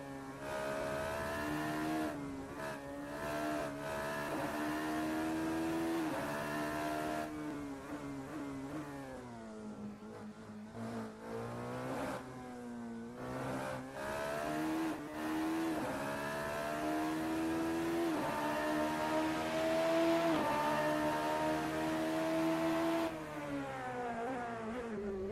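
Radical race car engine in a sim racing game on Hanger Straight, a loud continuous buzzing drone whose pitch climbs and dips through gear changes for the whole stretch, with no talk.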